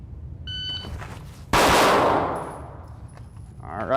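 A pistol fitted with a Vortex Defender CCW red dot is fired on a live-fire drill. A thin electronic beep comes first, then a sharp, loud close-range shot bursts out and rings down into a fading tail.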